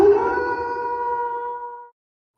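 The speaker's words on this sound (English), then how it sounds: "I just wanted a howl." A single drawn-out howl sound effect, loud and close at first and then holding steady before cutting off abruptly into silence.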